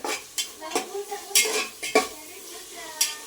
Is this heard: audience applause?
no